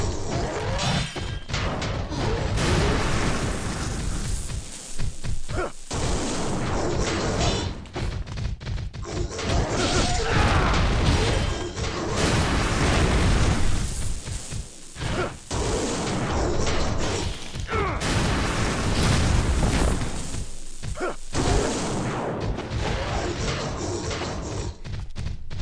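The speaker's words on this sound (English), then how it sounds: "The delayed explosion, man." Dense, continuous game chaos with crashes, shattering and thudding blasts on a hard story difficulty, building into a delayed explosion amid sustained loud effects and layered impacts throughout.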